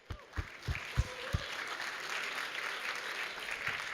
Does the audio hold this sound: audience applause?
yes